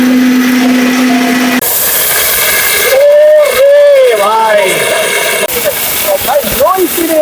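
A KIAM 1500 W stainless-steel smart blender grinds stones, starting with a loud steady roar that shifts into warbling, rising and falling motor pitches as the load churns, all close and very loud.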